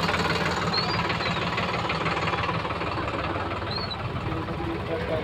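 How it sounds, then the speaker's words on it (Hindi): Tractor engines idle in a steady, close, knocking diesel chug, loud and continuous, with talk in the background. "ये देखो सब जने ट्रैक्टर में आए।"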